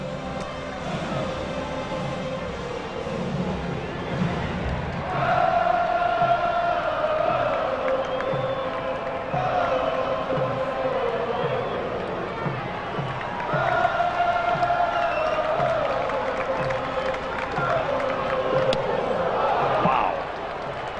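Baseball stadium crowd of about 26,000 on their feet cheering during a Cardinals at Braves game, a broad sustained roar swelling in waves, with a commentator talking over it throughout.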